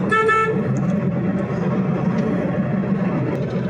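A car horn honks over steady road and engine noise, a short toot near the start with traffic rumbling throughout.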